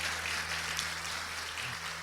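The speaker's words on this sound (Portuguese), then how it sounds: "E para você, uma salva de palmas aí." A church congregation at a service gives a round of applause, a soft, distant patter of many hands under a steady low hum, holding even from start to finish.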